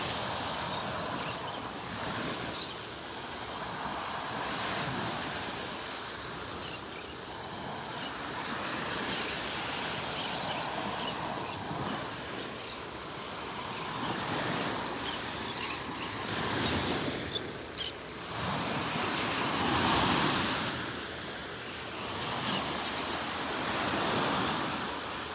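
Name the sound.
ocean waves on the beach in North Naples, Florida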